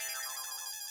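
A telephone ringtone chimes in a domestic setting, a steady electronic tone pattern that plays faintly and alone for about a second.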